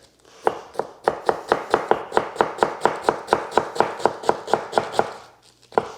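A large kitchen knife chops vegetables for coleslaw on a cutting board in a rapid, even series of about twenty crisp close knocks, with a brief pause before a final chop.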